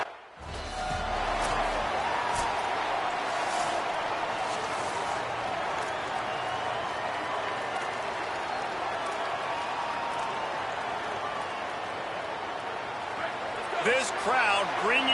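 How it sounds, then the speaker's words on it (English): A college football video game crowd at Wallace Wade Stadium roars in a loud, sustained wall of cheering, steady throughout with a brief swell of clatter near the end. "This crowd bringing an ear-splitting welcome to their visitors."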